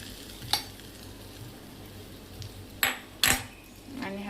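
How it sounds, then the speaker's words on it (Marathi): Hot oil tempering of cumin, mustard seeds and curry leaves is added to a homemade chutney, with a low steady sizzle under three sharp metallic clanks of a spoon against the pan, close and alone with no talking. "तेल तापलेलं आहे, ह्याच्यात आपण जिरा आणि राई आणि हे टाकलेले कढीपत्ता त्याचा तडका मारलाय। आता आपण जी चटणी बनवली त्याच्यामध्ये हे टाकूया"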